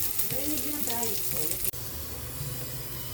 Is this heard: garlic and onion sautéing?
yes